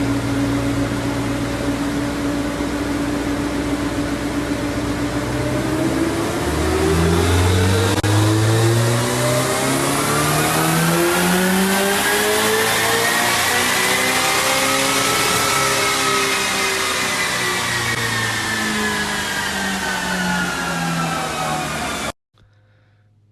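An EJ207-swapped Subaru Legacy engine revs loudly during a tuning session, holding a steady drone and then climbing and falling in long sweeps of pitch over about twenty seconds before cutting off abruptly.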